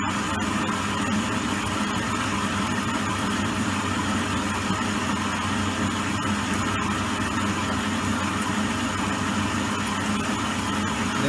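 An Elliot 14S lathe turns a bull gear shaft with a high speed steel bit at a 30 thou depth of cut through an interrupted surface. A steady, dense mechanical drone holds with no pause for the whole stretch.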